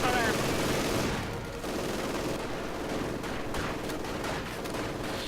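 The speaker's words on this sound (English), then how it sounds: "Barely any infantry, but lots of support weapons, lots of machine guns, and a mortar." Machine gun fire and mortar blasts in a war video game keep up a dense, constant rattle with booming hits, heard under narration.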